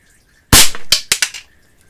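A Crosman CO2 air pistol fires into cardboard: one sharp, loud close crack followed by a few quicker impact snaps and rattles, then quiet.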